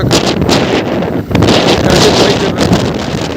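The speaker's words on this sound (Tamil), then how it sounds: "காற்று வேறு கொஞ்சம் இங்கே அதிகமாக இருக்குது." Strong wind at Manapad beach buffets the microphone with a loud, continuous roar of gusts, dipping briefly before surging on again.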